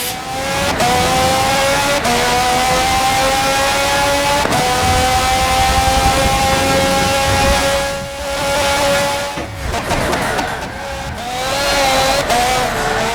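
Racing game car on a 50-lap Prague circuit, its engine screaming loudly and steadily through upshifts, with brief dips and tire squeal as it brakes and accelerates again.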